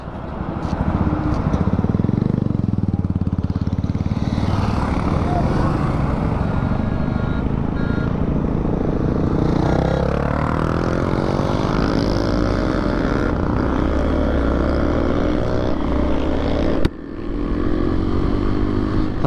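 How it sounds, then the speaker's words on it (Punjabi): A group of high-end motorcycles, worth lakhs each, rides together along a road, their engines forming a dense, continuous roar close by with no letup and a brief dip near the end. "ਅੱਜ ਰਾਈਡ ਕਰਨ ਦਾ ਆਨੰਦ ਆ ਰਿਹਾ ਪੂਰਾ ਕਿਉਂਕਿ ਕਾਫੀ ਜ਼ਿਆਦਾ ਬਾਈਕਰਸ ਆ ਇਕੱਠੇ"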